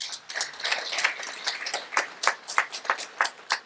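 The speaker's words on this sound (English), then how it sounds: "A round of applause for him and his great leadership." Sparse audience applause at a community celebration, a modest room of hands clapping with individual claps distinct and settling into a loose rhythmic pattern.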